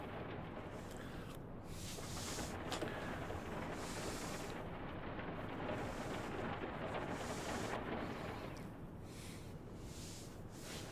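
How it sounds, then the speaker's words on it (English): Heavy rain pounds a steel submarine hull in the UBOAT naval game, a dense, steady roar of drumming that holds for the whole stretch with slight swells, no voices over it. "This is really how it would sound if you're in a steel hull and rain is thundering down on that steel hull."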